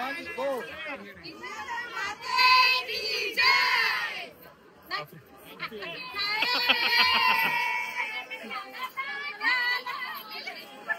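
Villagers shouting and cheering excitedly at the Hinglai Devi Gondhal festival in Kolhewadi, loud overlapping voices surging in bursts close by, with rising cries and chatter rolling through.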